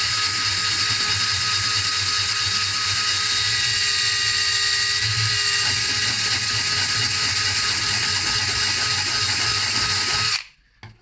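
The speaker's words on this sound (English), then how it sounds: "adding a screw into your drilling machine and then basically sharpen it" A power drill whines steadily and loudly for about ten seconds, grinding with a rough, buzzing edge as it sharpens a screw tip, then cuts off abruptly.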